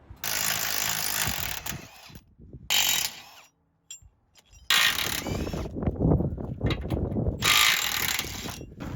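Bursts of a loud, close air or power ratchet zip and clatter as tow hook bolts come off the front of a 3rd Gen Toyota 4Runner, with brief pauses between runs and no talking.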